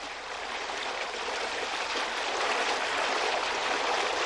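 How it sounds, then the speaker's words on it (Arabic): Water rushing steadily through falaj irrigation channels in Ibra, Oman, a continuous broadband stream sound, fairly close and even, with no voices. "وتنحدر مياه بعض هذه الأفلاج من المرتفعات"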